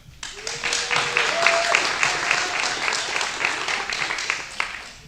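A meeting audience gives a quick round of applause, dense steady clapping from many hands lasting several seconds, with faint voices mixed in.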